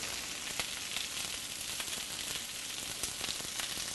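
Butter-glazed carrots sizzling in a pan, a soft steady frying crackle with faint scraping as they are stirred, quiet and close.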